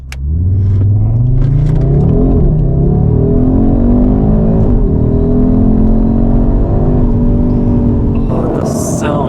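Car engine revving loud and close, rising steadily in pitch as it accelerates through a long pull, with a rumbling, throaty exhaust note throughout.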